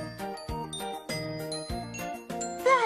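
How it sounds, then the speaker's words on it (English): Cowbells ring on a farm in a gentle, overlapping tinkle of bright, sustained tones, several clanks in an uneven rhythm. "he could hear the peaceful tone of bells ringing."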